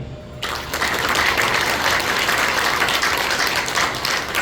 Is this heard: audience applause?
yes